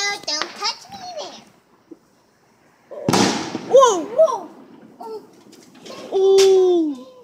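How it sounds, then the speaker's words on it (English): Fourth of July fireworks: one sharp, loud burst stands out amid whistling and crackling, while a voice and other excited voices talk and exclaim around it. "Make sure to turn down the voice volume because the fireworks are so loud."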